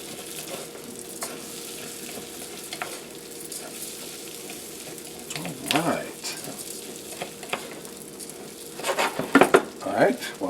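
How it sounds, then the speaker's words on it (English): Onions and pistachio nuts sizzle in a hot pan while being stirred, a steady low frying hiss broken by scraping utensil strokes and a few louder clatters near the end. "Now, stir it up"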